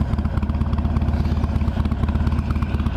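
Harley-Davidson Iron 883 motorcycle engine running, a loud, close, rhythmic low-pitched thumping throb that stays steady throughout with no talking.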